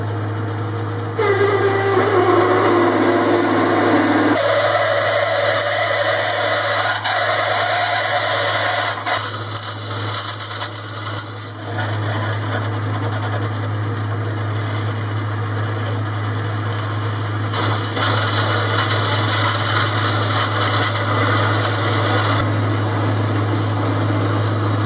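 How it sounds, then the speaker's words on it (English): An 18mm drill bit bores into metal on a machine, giving a steady, loud mechanical hum and whine that runs unbroken throughout, with shifting cutting tones partway through. "18mm drill."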